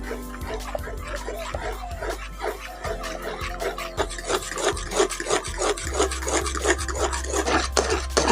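Carrot jelly mixture stirred in a pan over a low flame on a home stove, giving repeated scraping, rubbing strokes in a steady rhythm, close and fairly loud, with a low hum beneath.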